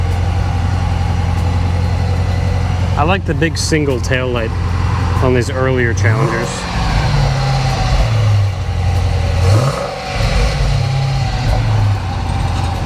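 A 2014 Dodge Challenger's engine gives off a steady, moderately loud low rumble that runs the whole time, with rising revs near the middle and end, while people talk over it.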